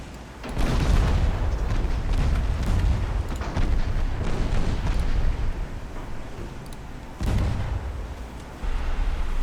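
Heavy naval gunfire and a warship blowing apart in the game Ultimate Admiral: Dreadnoughts, deep rolling booms and blasts in overlapping waves, loud and close, with a fresh explosion late on.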